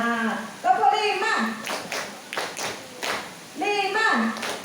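Hands clap several times in short, uneven bursts while voices speak and chant over them nearby.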